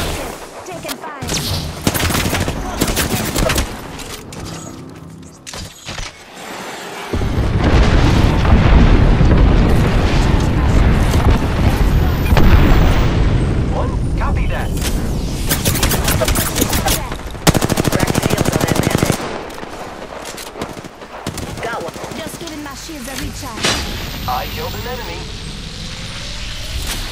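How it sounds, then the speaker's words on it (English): Dense video game gunfire rattles in long automatic bursts and scattered shots, with booms through the middle stretch, loud and nearly continuous while players call out over it. "Taking fire."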